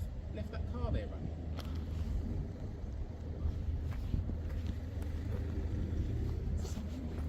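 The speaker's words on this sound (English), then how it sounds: "Did you see who's left that car there running?" A car left running with its engine idling gives a steady low rumble under wind buffeting and close voices talking throughout.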